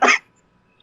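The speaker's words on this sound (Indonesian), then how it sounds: "Batuk, rokok terus." A single short, fairly close cough from a smoker, followed by near silence.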